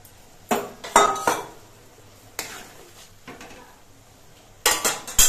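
Fried eggplant pieces go into a simmering fish curry pot with several sharp metallic clanks and scrapes of a utensil against the pan, spaced out between quieter pauses.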